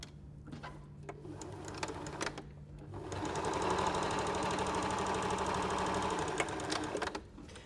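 A sewing machine runs a seam on an arrowhead star quilt block, guided by the presser foot: a few short bursts of stitching at first, then a steady, close whirring run of several seconds that stops near the end.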